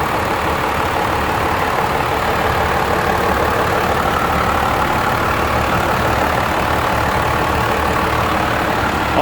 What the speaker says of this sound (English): let you take a quick peek at the engine bay and let you hear it run.